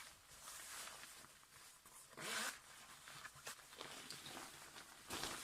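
A zipper on a piece of Disney children's clothing, with a few quick faint rasping zips up close against a soft hiss of background noise.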